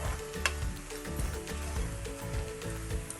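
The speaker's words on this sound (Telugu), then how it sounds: "ఇది వేద్దాం కొన్ని. వేసి ఒకసారి కలిపేసి మూత పెట్టేస్తే ఆ వేడికి అది కొంచెం మగ్గుతుంది." Fried vadiyalu being stirred into a banana flower and fenugreek seed curry in a pan, giving a steady close sizzle with scraping stirring strokes and a sharp clink near the start, and no talk.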